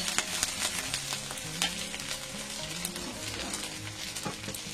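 Ginger-garlic paste fries with dry fish in a pan, a soft, close, continuous sizzle marked by frequent crackling pops and stirring scrapes, with no one speaking.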